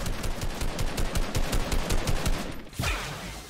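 Rapid automatic gunfire rattles in dense repeated bursts during a Fortnite match, close and loud, with a sharp sweep near the end and no talk.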